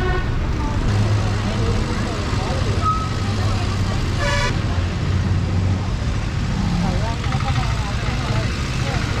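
Busy city-center street traffic in Kandy, Sri Lanka, with a steady wash of engines, a few short car-horn toots, and a loud, continuous background of voices and talk throughout.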